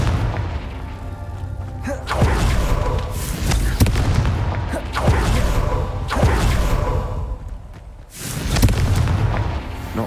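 Repeated fire spell explosions from Confringo in Hogwarts Legacy during a Merlin Trial: several deep booms with whooshing bursts, loud and close, recurring every couple of seconds.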